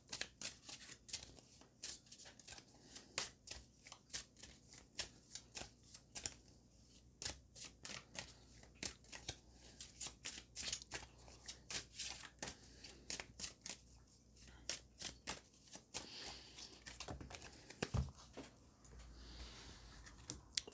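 Tarot cards shuffled by hand close up, a long run of quick papery riffles and soft slaps in an irregular rhythm, fairly quiet and with no talking.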